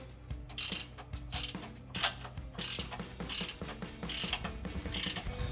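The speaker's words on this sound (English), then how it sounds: "And I'm going to ratchet on the inside of the frame." A hand ratchet with a 9/16-inch socket tightens exhaust hanger bolts on the inside of a pickup frame for a Ford Ranger MBRP dual exhaust fit. Close, rapid clicking comes in repeated bursts with short pauses, and no one speaks.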